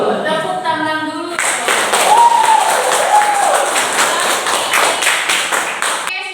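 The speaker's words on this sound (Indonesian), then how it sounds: "Tepuk tangan dulu" A class claps together in a loud, rhythmic burst that runs several seconds after a teacher's brief talk, with a voice briefly rising over the clapping.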